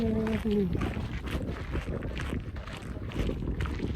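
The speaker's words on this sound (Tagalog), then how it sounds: "it's a little windy" Gusty wind buffets the microphone on an open overlook at Horseshoe Bend, a steady rumbling roar lasting throughout, with a brief tonal whistle at the start and faint voices in the background.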